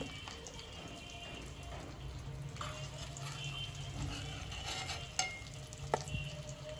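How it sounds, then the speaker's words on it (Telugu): Eggs deep-fry in hot oil for egg biryani, a faint bubbling sizzle with occasional stirring clinks and small pops, quiet and close with no speech. "ఎగ్స్ మంచిగా ఫ్రై అయిపోయినాయి డీప్ ఫ్రై అయిపోయిన తర్వాత మనం అయితే ఇవి తీసి"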